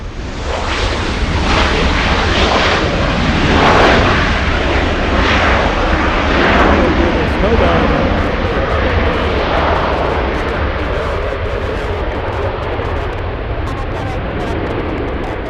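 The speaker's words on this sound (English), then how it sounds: "Alright, that's the A350 flying to Paris." An Airbus A350 jet takes off from LAX bound for Paris with a loud, continuous engine roar that swells and then slowly fades as the aircraft climbs away.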